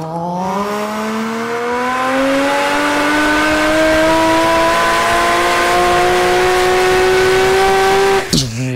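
A car engine revs hard on a dyno, a loud sustained climbing roar that rises steadily in pitch over several seconds before cutting off abruptly near the end.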